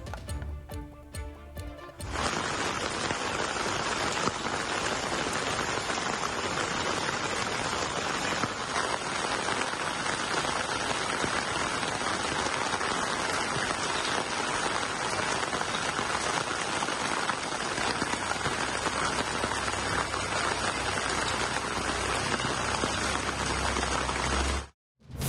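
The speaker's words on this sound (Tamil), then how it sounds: "முடிச்சூர், வண்டலூர் உள்ளிட்ட பல்வேறு பகுதிகளில் சுமார் 1 மணி நேரமாக கனமழை பெய்தது." Heavy rain pouring over Chennai suburbs such as Mudichur and Vandalur, a dense steady hiss and patter of downpour that holds loud and unbroken for about twenty seconds after a brief quieter start.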